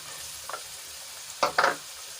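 Brinjal, chora beans and tomato being stirred and sautéed in a pan for a Gujarati vegetable dish: a soft scrape, then two louder stirring scrapes over a faint steady sizzle, close and fairly quiet.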